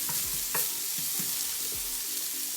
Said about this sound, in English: So by sauteing the veg next to it, giving all that flavor